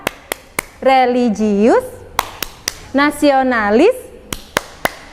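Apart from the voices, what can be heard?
class doing the Tepuk PPK rhythmic hand-clapping routine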